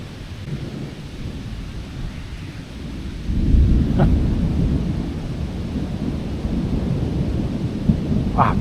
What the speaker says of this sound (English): Wow, just constant lightning and thunder.